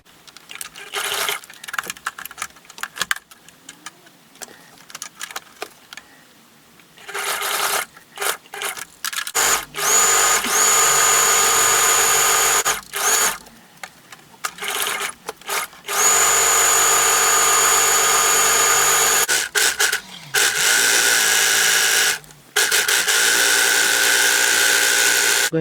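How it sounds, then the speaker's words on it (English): A sewing machine stitches a skirt cuff in loud bursts of fast, even running separated by pauses and quieter handling sounds, close up and without talk. "I'm going to stitch my cuff 1 centimeter all around."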